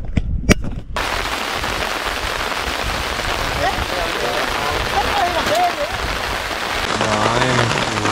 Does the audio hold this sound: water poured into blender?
no